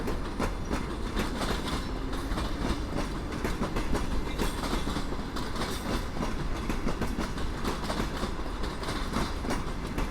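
An EU160 Gryf electric locomotive hauls Ukrainian passenger cars through Warszawa Wschodnia station, a steady loud rumble of rolling wheels with rhythmic clickety-clack over rail joints, close and continuous throughout with no voices.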